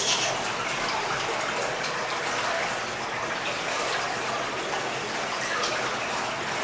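Water from a deep cave spring gushes and rushes steadily, loud and close, a continuous broadband flow that never lets up.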